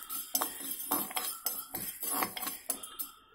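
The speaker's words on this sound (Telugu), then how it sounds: "ఆవాలు చిట్పట్లు ఆడుతున్నాయి కదా" A tablespoon of mustard seeds dry-roasting in a small kadai pan for a cauliflower pickle spice powder, crackling with quick, irregular sharp pops and clinks, fairly close and with no voices.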